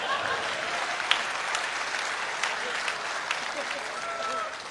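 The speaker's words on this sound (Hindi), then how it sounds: "ताली तो जोर से बजा दो।" An audience applauds at a Hindi comedy poetry show, with sustained, moderately loud clapping from a crowd that carries steadily and tapers slightly at the end.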